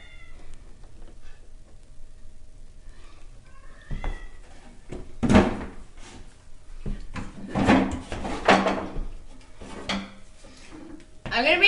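A wooden dresser drawer slides open and shut, a series of scraping and knocking bursts amid household clatter, with a cat meowing and a person talking nearby.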